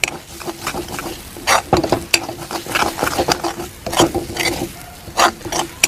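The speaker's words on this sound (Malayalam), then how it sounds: "ഇനി നമ്മളിത് ഇളക്കണം" A jackfruit cutlet mixture with onion, turmeric and spices is stirred in a pan, giving repeated scraping and clinking strokes of a spoon against metal over a soft sizzle, close and fairly loud.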